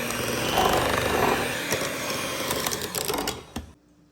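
An electric mixer whirs steadily through cake batter for an Easter dessert, a close, continuous mechanical drone with slight fluctuations before it shuts off near the end.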